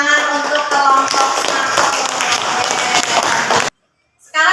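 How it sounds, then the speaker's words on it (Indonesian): Students in a university classroom applaud group 1 after their presentation with loud, close clapping that cuts off abruptly into silence, then a short burst of claps returns at the very end. "tepuk tangan untuk kelompok"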